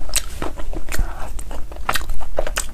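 Korean-style chicken feet and rice cake in a sweet-spicy chili sauce being bitten and chewed right at the mouth, with a run of moist, sticky bites and crunchy chews repeating steadily and loudly, with no talking.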